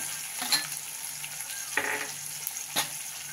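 Curry leaves spit and crackle as they hit hot oil with masala okra in a pan, a steady sizzle broken by a few sharp bursts, close and alone with no talking.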